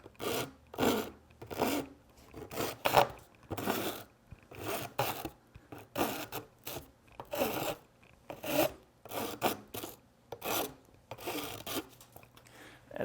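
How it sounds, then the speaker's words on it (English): A file rasps along the cut edges of a polycarbonate sheet in steady, repeated back-and-forth strokes, close and fairly loud, with no talking. "we're going to deburr the edges again"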